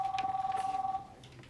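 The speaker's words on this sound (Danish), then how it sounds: "Det ringer, ikke?" A telephone rings with one fast trilling electronic burst lasting about a second, close and fairly clear, then fades into quiet room tone.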